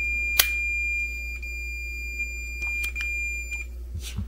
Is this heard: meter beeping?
yes